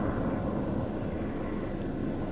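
A coastguard helicopter flies over the Inner Hebridean island of Gigha at night, a steady, broad, rumbling drone that stays constant throughout with no voices.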